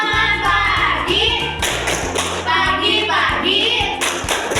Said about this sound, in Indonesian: Tepuk semangat pagi.